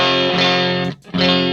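A loud electric guitar chord rings out heavily distorted through a Rat distortion pedal, sustained and thick, briefly cut off before being struck again.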